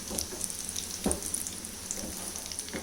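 Breadcrumb-coated chicken cutlets shallow frying in a pan over a medium flame: a soft, steady sizzle and crackle, fairly faint, with a few small pops.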